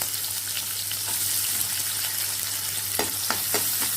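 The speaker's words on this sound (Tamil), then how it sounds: "பல்லாரி வெங்காயம் போட்டு அதையே வளர்க்குறேன் கொஞ்சம் நல்லா வதங்கணும்" Steady sizzle of large onions frying in hot oil with curry leaves for prawn gravy, with a few spatula scrapes and stirs near the end, continuous and close.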